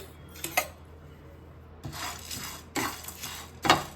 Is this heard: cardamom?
yes